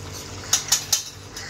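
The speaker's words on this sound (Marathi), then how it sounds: "तर मी हे मसाले घालते." A small spoon adding spices to chicken in a pot gives three sharp metallic taps in quick succession against the rim, close and distinct over faint low kitchen hum.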